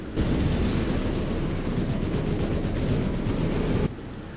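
A dense, continuous roar of overlapping blasts and rumbling booms from the video game Prototype, loud and sustained for several seconds before cutting off abruptly near the end.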